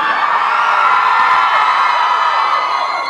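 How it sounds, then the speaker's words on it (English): A large crowd cheers and screams continuously at VloggerFair 2014, a dense, loud wall of voices holding steady throughout without any single speaker standing out. "You guys cheered louder for her."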